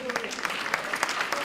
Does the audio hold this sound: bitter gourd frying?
no